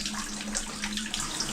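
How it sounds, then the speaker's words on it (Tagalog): A shower runs in steady hiss and splash of water, close and continuous, with no voices heard over it. "Tinatry ko lang naman yung shower."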